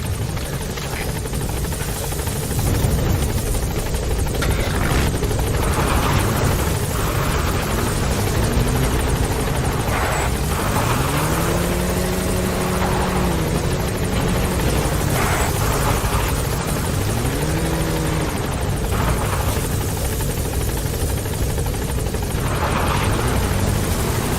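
A support helicopter's rotor in Metal Gear Solid V: The Phantom Pain thrums loudly and continuously, with a rising and falling engine whine sweeping through the steady chopping drone.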